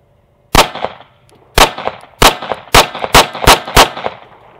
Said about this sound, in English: let's get our first few rounds through here and go from there.